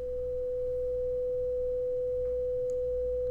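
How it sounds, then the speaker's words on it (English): A pure 500 Hz sine tone holds steady and continuous at one pitch for the whole stretch, fairly quiet against a faint low hum, with no other sounds. "this is going to be a pure sine tone at 500 Hz"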